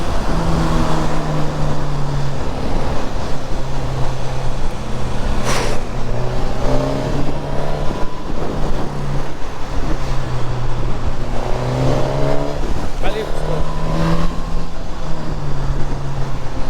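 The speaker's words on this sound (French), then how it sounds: "C'est quelque chose cette moto." A Suzuki GSX-S 1000 motorcycle engine hums along steadily at close range, its tone rising and falling through gear changes and throttle shifts, with rushing road and wind noise throughout.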